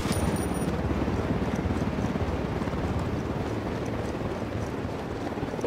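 An attack helicopter approaching in Ghost Recon Wildlands, a dense, continuous low rotor throb with rapid rhythmic chopping and broadband wash, loud and steady throughout with no talk.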